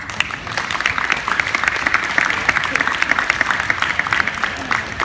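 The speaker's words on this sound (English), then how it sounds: "Let's give a big round of applause" A youth sports team's parents, the head and assistant coaches, receive a crowd's sustained applause, dense steady clapping that holds evenly for the whole stretch with no break.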